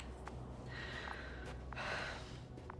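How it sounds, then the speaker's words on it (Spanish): A female character in The Invincible video game pants heavily after sprinting, with short breathy gasps and exhales coming in quick, uneven bursts, close and fairly soft. "cuando echas un sprint se pone a jadear y no te deja correr, se para"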